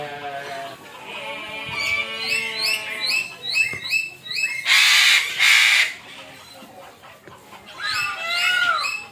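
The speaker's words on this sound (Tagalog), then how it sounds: "Look, parrot. Parrot." A parrot at the zoo gives repeated harsh, raspy calls close by, with a loud rushing burst midway before more squawks.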